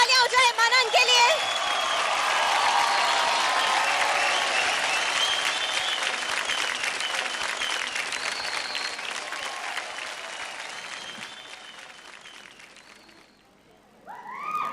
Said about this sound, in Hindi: परफॉर्मेंस था, जोरदार तालियां हो जाए मनन के लिए।